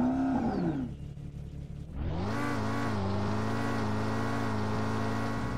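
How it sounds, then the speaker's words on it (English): Power-1 car engine in the Roblox game Jailbreak, idling then revving up sharply around two seconds in and holding a steady loud, close drone with a falling whine at the start; no talk. "the Power-1 has its own unique engine sound"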